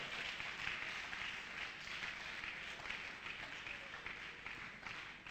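Steady applause from a church congregation fills the space evenly, a dense wash of clapping that holds at a moderate level throughout with no break.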